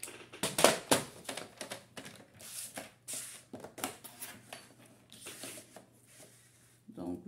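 Paper being cut to size for a handmade gift box, a series of short irregular snips and rustles close by, with a person talking in between the cuts.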